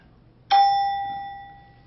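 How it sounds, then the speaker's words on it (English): A single bell strike marks the end of a quiz-bowl toss-up round: a bright, clear ding rings out close and loud, then decays over about a second and a half with no talking over it. "There's the bell."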